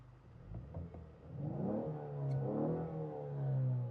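Ford Mustang convertible engine with selectable exhaust modes idling and revving in short, low blips, a mid-level rumble rising and settling a few times, fairly quiet and heard without talk.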